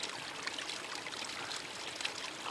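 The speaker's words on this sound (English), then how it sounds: "usually in the mountains, I find good streams like these." A mountain stream on the Manaslu circuit trek rushes steadily, a soft, even broadband flow with no voices.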